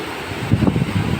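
Typhoon Uwan's very strong wind roars steadily into the microphone over open sea, with low buffeting gusts swelling toward the end.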